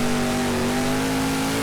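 Gravedigger monster truck in BeamNG, its engine holding a loud, steady high rev with a sustained droning tone, close and continuous with no talk.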